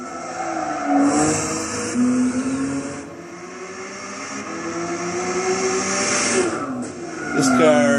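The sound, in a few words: Volkswagen GTI Roadster VGT engine in Gran Turismo 6 video game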